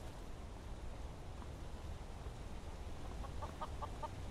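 A chicken in the game Skyrim gives a few soft clucks near the end, faint against a steady rushing ambient background.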